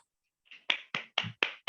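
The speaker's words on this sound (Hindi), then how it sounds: "एक जोरदार तालियां।" Four sharp, evenly spaced hand claps on a video call, each a crisp near slap separated by silence, after a faint lead-in tap.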